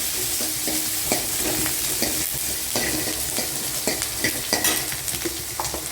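Onions with salt fry in a pan with a steady loud sizzle, while a utensil stirs them and adds scattered scraping clicks up close.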